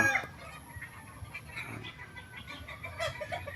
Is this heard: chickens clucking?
yes